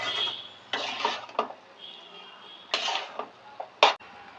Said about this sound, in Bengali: এরপর এর মধ্যে আগে থেকে ভেজে রাখা বেগুন, বড়ি আর চিংড়ি মাছগুলোকে আমরা দিয়ে ভালো করে নাড়িয়ে নেব।